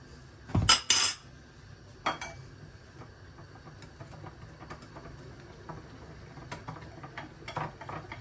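Spoon scraping and clinking against a bowl while flour is stirred into yogurt for a tripe soup: a sharp metallic clatter up front, then lighter scattered taps and a soft continuous stirring, close and quiet with no talking.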